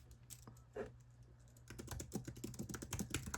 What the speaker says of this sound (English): I don't know if my keyboard gets picked up when I do this